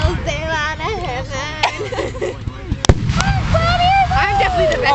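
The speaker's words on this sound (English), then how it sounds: "When the fireworks go out." Fireworks go off in the night sky, with one sharp, loud burst standing out midway amid crackling and whistling, mostly under continuous excited chatter from people nearby.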